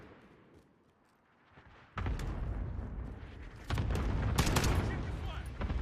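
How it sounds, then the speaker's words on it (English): A loud, dense barrage of gunfire and blasts from a combat video game hits after a quiet opening, with sharp cracks over a constant low rumble that builds even heavier toward the end. "Enemy cluster strike incoming."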